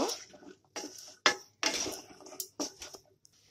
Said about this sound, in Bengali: এবার কাঁকুর আলুটা আমি এর মধ্যে দিয়ে দেব, একটু মিশিয়ে নেব।